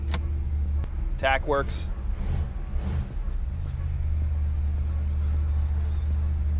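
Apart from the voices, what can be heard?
1957 Ford Custom 300 with 428ci motor pulling away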